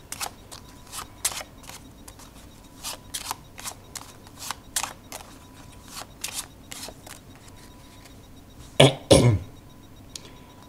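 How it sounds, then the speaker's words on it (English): A small stack of nine playing cards shuffled by hand, a series of quick crisp riffling flicks at an irregular rhythm, close and clear, ending in a louder burst of shuffling. "And now what you can do is shuffle up these cards."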